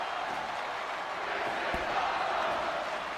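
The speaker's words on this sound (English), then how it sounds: "And the crowd is enjoying this match" A wrestling video game crowd cheers and roars in a broad, sustained wash of noise with no distinct voices, one faint thump partway through.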